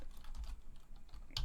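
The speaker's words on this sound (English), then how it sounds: "So I'm actually just going to type in" Quiet, brief tapping of keys on a computer keyboard, a few soft clicks up close with a slightly louder burst at the end.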